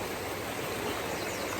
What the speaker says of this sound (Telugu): మొత్తం పిచ్చుకల్ సౌండే ప్లస్ వాటర్ సౌండే